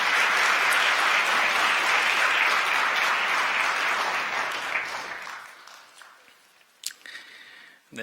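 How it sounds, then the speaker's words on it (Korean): A church congregation at a Sunday worship service claps in a full, loud burst of applause that holds steady for about five seconds, then fades out into a few scattered claps and quiet room noise. "다시 한번 박수 보내주십시오."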